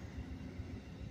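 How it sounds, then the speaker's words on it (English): Low, steady rumble of an Amtrak passenger train rolling slowly along a siding beside track work on the main line, heard faintly from a distance with no talking. "we have the Amtrak. Going slow. They are doing work on the main. They are actually on the siding."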